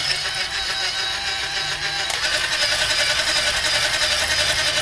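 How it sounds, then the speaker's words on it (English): A motorized electric whisk beats eggs in a bowl with a steady, close high whine and light rattling that runs without pause. "I'm going to use my motorized whisk. I want to beat these up for at least a minute."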